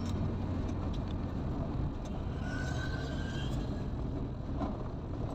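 A mountain bus engine rumbles in a dense, continuous low roar as it pulls along a hill road, steady and fairly close with traffic-like wash around it.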